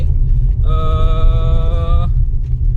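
A ride-hailing taxi car driving on a road near Pune, heard from inside as a loud steady low rumble, with a brief tonal whine rising over it midway.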